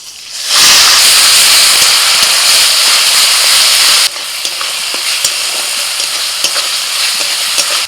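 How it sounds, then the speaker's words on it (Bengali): Onion paste hits hot spiced oil for egg curry, bursting into a loud, steady sizzle and hiss that eases slightly partway through, with faint clicks of stirring. "ফোড়নটা হয়ে গেছে, দিয়ে দিচ্ছি পেঁয়াজ বাটা।"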